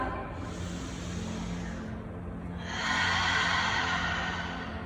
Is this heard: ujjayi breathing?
yes